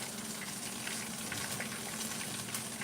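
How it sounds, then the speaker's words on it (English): Pot of green banana, cassava and white yam boiling in water, giving a steady, even bubbling hiss that runs alone and unbroken from start to finish. "And that's what's boiling over here."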